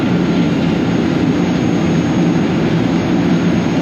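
A work boat's heavy engine drones loud and steady as it passes, a deep continuous rumble close by with no pauses or voices.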